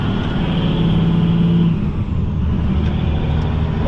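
A car engine heard from inside the cabin, a steady, moderately loud drone with low rumble and a slight rise and fall in pitch, running alone with no talk.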